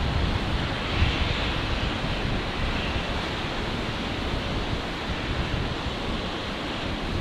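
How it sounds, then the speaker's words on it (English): A small Aero Commander aircraft arriving on runway 19 right at Brisbane Airport at night, heard as a steady, broad, distant engine roar that stays even throughout with no talking. "Got a little aero commander coming in on 19 right here"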